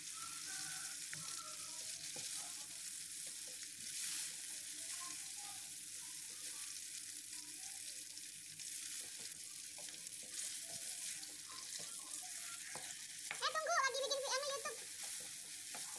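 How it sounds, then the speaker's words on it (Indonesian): Chili and tomato stir-fry in a pan as a soft, continuous sizzle runs throughout, with faint clinks and a brief louder scrape near the end, and no voices. "Lalu masukkan cabai dan tomatnya. Tumis sampai tomatnya layu"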